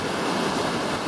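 Creek water flowing steadily on the Te Araroa trail between Browning Hut and Hackett Hut, a continuous broadband rush with no breaks, moderately loud and alone.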